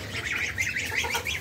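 Geese kept in an indoor room honk repeatedly, a string of nasal calls that overlap and rise and fall, moderately close and fairly quiet, with no talking.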